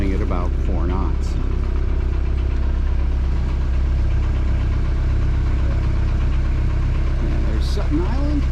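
Displacement-hull boat motoring at about 4 knots off Sutton Island near Little Cranberry Island, a steady low engine drone running throughout with wind and water, plus brief voices and bird-like chirps now and then.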